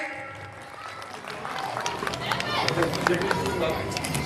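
Village crowd at a Republic Day Hindu Sabha gathering in Mukundpur bursts into applause, building steadily from scattered claps to a dense, sustained clatter with voices mixed in.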